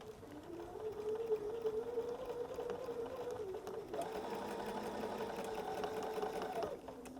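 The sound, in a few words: sewing machine stitching a flannel rag quilt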